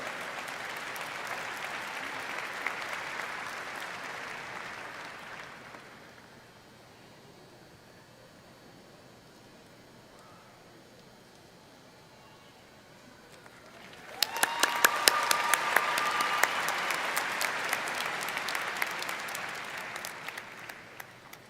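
University commencement audience applauding doctoral degree recipients: a broad wave of clapping fades out, a quieter lull follows, then a fresh loud burst of applause with sharp individual claps swells and carries on.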